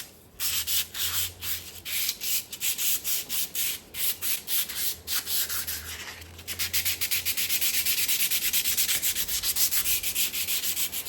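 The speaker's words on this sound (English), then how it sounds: "I've wet it down here, so just gonna kind of sand it" Wet sanding of the fuel tank on a 1-inch scale ATSF GP60M model locomotive: close, rasping back-and-forth strokes in a quick steady rhythm that merge into continuous rubbing toward the end, with no voices.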